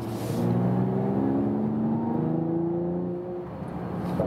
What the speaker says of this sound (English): the exhaust noise is a little louder